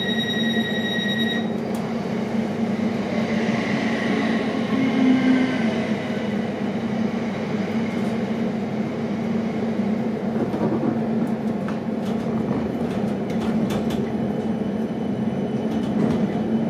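A Class 455 electric train rumbles steadily along, with a continuous low drone, a faint whine, and occasional squeals and clicks from the wheels.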